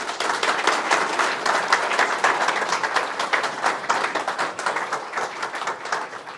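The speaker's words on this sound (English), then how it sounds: "Please, could you give a massive round of applause for Bev Craig." A large audience applauds for Bev Craig at a Pride in Leadership conversation event, steady dense clapping sustained and loud throughout with no talking.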